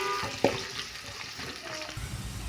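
Chopped onions frying in hot oil with cloves, cardamom and bay leaf for a biryani, a soft steady sizzle with light stirring clatter and a brief knock near the start.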